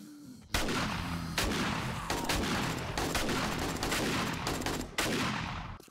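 Rapid bursts of gunfire from 7 Days to Die ring out loud and close, a dense string of shots with brief gaps between volleys and no talking over them.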